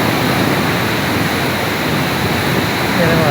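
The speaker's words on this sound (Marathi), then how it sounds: "बघा, पाण्याचा प्रभाव बघा, खूप पाणी सोडलं, जबरदस्त प्रभाव." Released water rushes loudly through the rock potholes of the Ranjan Khalge gorge at Nighoj, a close, steady roar of churning flow with no break.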